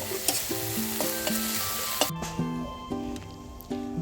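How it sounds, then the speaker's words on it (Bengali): Shrimp frying in a pan give a continuous close sizzle, broken by repeated clinks and scrapes of a utensil stirring against the metal; no talking. "এবার চিংড়ি মাছগুলো ভেজে নিচ্ছি"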